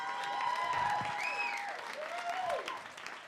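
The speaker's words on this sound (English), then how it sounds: "One more round of applause for everybody you've seen so far." A comedy club crowd applauds the comedians at a stand-up show, sustained clapping and cheering from a fairly close audience, with a voice calling out over the applause.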